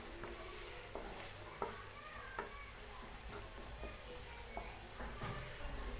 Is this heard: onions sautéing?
yes